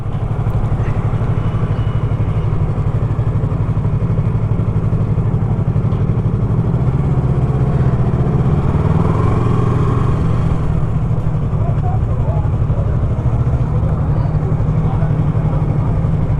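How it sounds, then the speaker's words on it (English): Motorcycles and superbikes such as a Ducati, BMW S1000RR and Yamaha R3 rumble steadily while idling outside a cafe, a loud continuous engine drone with no clear revving. "Oh wow, so many bikes."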